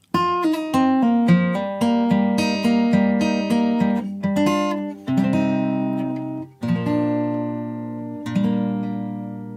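A guitar plays a melody from Outer Wilds in plucked single notes with some ringing and slurred notes, moderately loud, with brief pauses between phrases and no talking.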